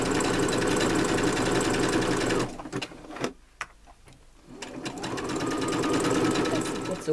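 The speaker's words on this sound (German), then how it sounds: "Deswegen nähe ich jetzt ganz normal mit in Nähfußbreite und schneid dann hinterher die Nahtzugabe zurück." A domestic sewing machine runs steadily while stitching a seam with the standard presser foot on a child's pants. The whir stops briefly for a few clicks and handling noises, then starts again. The sound is close and loud.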